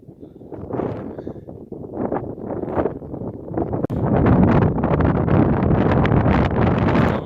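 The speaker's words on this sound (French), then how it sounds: "Il y a du vent froid." Cold wind blows across an Alpine mountainside, a steady close roar of gusts buffeting the microphone that grows stronger and more constant halfway through.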